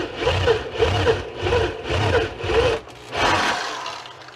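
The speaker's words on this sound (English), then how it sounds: "Drill this one in here." Power drill boring into a wooden 2x4 for a car antenna mount, five rhythmic close revving bursts followed by a longer grinding push, with no talk.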